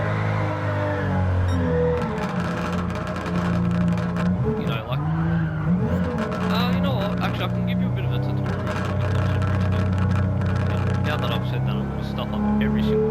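A car drifting with long, wavering tire squeal over a revving engine, loud and continuous, rising and falling as the car slides through the corners; someone talks over it at times.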